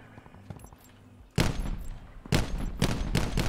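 Black Ops 4 gunfire bursts out close and loud in rapid volleys after a quiet opening, with several separate bursts of shots following one another.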